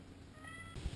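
A house cat lets out a short whining meow, close and soft, followed by a brief low thump or rustle.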